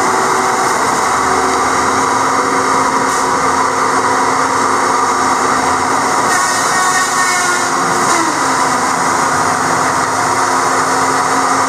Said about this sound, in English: You can hear that fan running on the back of it back there.